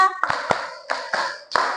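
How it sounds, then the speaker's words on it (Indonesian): Five sharp hand claps in a classroom lesson, in a quick, uneven rhythm, close and loud, following a short spoken cue. "tepuk 5 kali."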